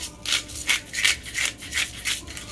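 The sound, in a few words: grinding crushed pepper with a pepper grinder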